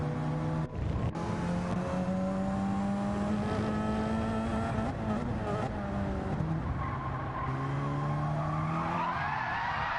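A race car spinning out in the racing video game Gran Turismo 7, with a sustained engine drone, tires squealing and skidding as revs rise and fall, loud and close, under faint talk.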